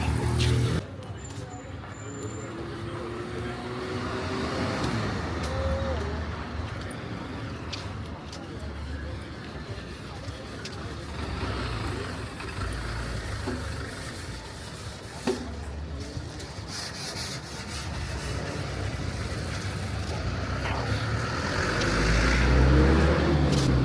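Busy road traffic in Mbarara, Uganda, near the milk bulking center, with milk trucks and cars rumbling and passing steadily throughout, a continuous engine and tyre wash under distant crowd murmur and voices.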